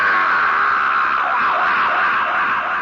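A sustained primal scream, drenched in a heavy echo-chamber effect, holds as one loud continuous wail with a wavering pitch.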